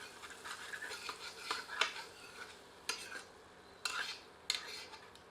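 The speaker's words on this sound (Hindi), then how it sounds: "अब पुनः इसे 2 से 3 मिनट मध्यम आंच पर और भूनते हैं" Oil-free mutton curry masala is stirred and roasted in a pan over a medium flame, a faint scraping and sizzling with several sharp spoon knocks against the metal.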